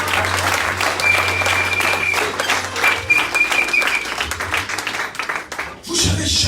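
A church congregation applauds and cheers in praise of the Lord during a sermon, loud sustained clapping mixed with voices and shouts, a low organ-like tone underneath, then a brief lull before a final swell.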